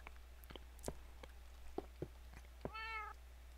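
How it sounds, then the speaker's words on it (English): A cat in a hardcore survival video game gives a single clear meow near the end, preceded by a few soft taps and footstep-like clicks over a low steady hum. "I hear the cat."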